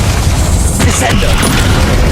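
A Descendo spell slam in Hogwarts Legacy, a single heavy booming impact landing amid ongoing rumbling combat noise, loud and close, with a voice briefly present.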